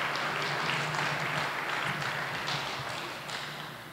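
Audience applause at a university press event naming a new women's basketball head coach, a steady wash of clapping that holds for the full stretch and slowly fades toward the end.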